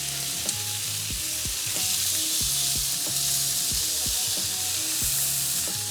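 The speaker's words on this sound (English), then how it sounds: "Nice sizzle going on." Bacon and sausage patties sizzling in a pan, a steady bright hiss with occasional soft clinks and scrapes of a utensil, close and loud with no talking.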